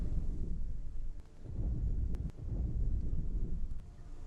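Thunder during a lightning strike in the video game Hellblade: Senua's Sacrifice, heard as a low, continuous, fairly faint rumble that swells and dips with no voices.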